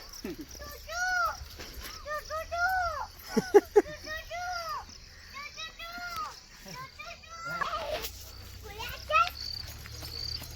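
A voice mimics a cuckoo with repeated rising, whistly calls, mixed with other children's chatter and a steady insect chirr in the background.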